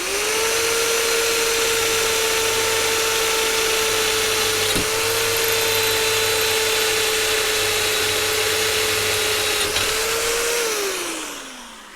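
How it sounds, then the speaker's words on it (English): A steady, loud power drill whines for about eleven seconds while drilling a quarter-inch hole, holding one pitch with a faint click midway, then winds down at the end. "So this is a 1/4 inch hole, which is about as big as I like to drill."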